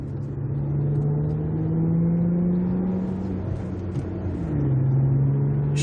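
Nissan Altima engine fitted with a Magnaflow resonator exhaust, heard from inside as a steady droning hum that rises, holds, then drops and climbs again as it revs, with intake noise prominent.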